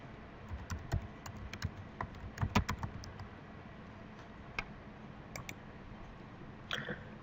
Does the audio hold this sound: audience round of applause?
no